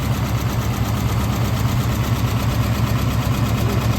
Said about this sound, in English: we got a Ford Flathead 239 cubic inch V8, Flathead V8